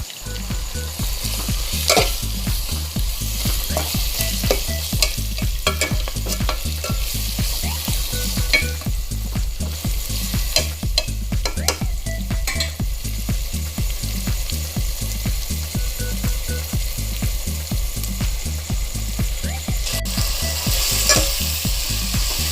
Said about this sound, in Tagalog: Just mix with the tomato at saka haluin siya.